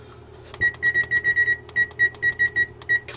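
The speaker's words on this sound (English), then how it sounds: "adjust the timer" A brand new oven's timer beeps in a rapid series of short, bright electronic tones, grouped in quick bursts with brief gaps, loud and close with no talking.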